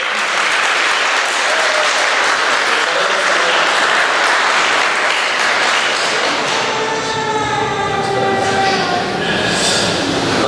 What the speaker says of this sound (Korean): 우리 같이 박수로 환영했습니다